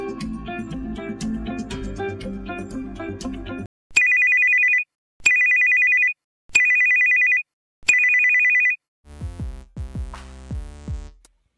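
Ringtone previews on an Android phone: a melodic tone sequence, then four identical bright electronic rings separated by short gaps, then a lower chiming tune, all loud and clean.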